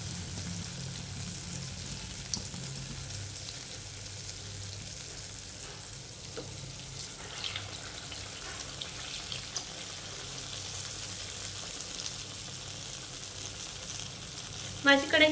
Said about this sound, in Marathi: आपण ही वडे आता दुसऱ्या बाजूने तळून घेऊया